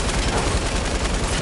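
Boombox shotgun firing in a video game, a loud, dense, continuous burst of gunfire noise lasting just over a second.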